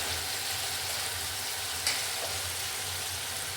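Onions and tomatoes for pav bhaji sizzle steadily in a pan as masala is added, a continuous frying hiss with a small clatter near the middle.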